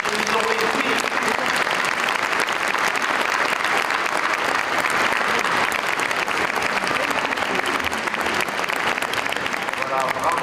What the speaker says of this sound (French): on peut applaudir de grand cœur les enfants qui nous ont réjouis